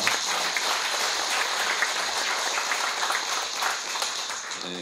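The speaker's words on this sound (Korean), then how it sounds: "박수로 맞아 주시기 바랍니다" An audience at a Korean philosophy lecture on Daehaeng Seon Master's One Mind thought breaks into steady, dense applause welcoming the first presenter, a continuous crackling clatter of many hands throughout with no talk over it.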